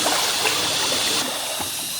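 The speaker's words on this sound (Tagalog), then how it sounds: "Ayan guys, oh, kasi umaagos yung tubig." River water flows past in Camarines Sur, a soft, continuous rushing and trickling that stays steady and close for a brief moment.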